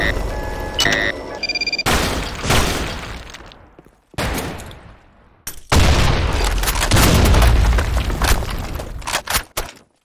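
Grenade blasts and gunfire in the shooter game Blackshot: a string of loud, close booms and bursts of shots separated by brief quiet gaps, with no voices.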